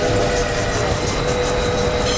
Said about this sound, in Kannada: ಟ್ರೈನ್ ನಿಲ್ಸೋ ಕೇಳು